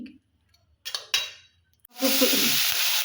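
Chicken skin sizzles in hot oil after a few faint clinks and stirring scrapes, the frying hiss swelling suddenly and holding steady and close.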